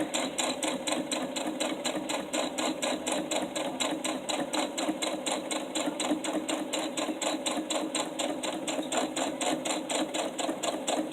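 A sewing machine stitches steadily through a thick stack of fabric layers for a sewing caddy, with a fast, even mechanical clatter that runs without a break at close range and no voices.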